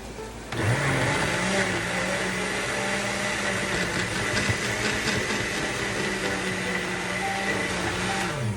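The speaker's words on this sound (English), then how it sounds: "I have the worst blender, by the way." A cheap, struggling blender purees chicken tortilla soup with tomatoes, running as a loud, steady whirring motor roar for several seconds without talk.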